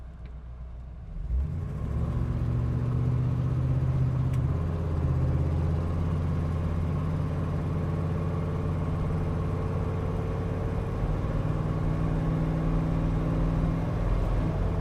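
1983 Chevrolet K10 Blazer 4WD cruising at about 50 mph, a steady low engine drone and road hum filling the cabin, rising slightly in the first seconds then holding even throughout with no talk.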